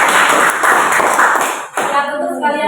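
A classroom audience claps for a correct answer during a biology lesson, a dense burst of hand claps lasting about a second and a half before a voice takes over.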